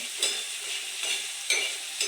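Okra with cumin and green chilli sizzles steadily on a hot tawa, broad crackling hiss with a few soft stirring scrapes recurring roughly every second, close and moderately loud with no voices.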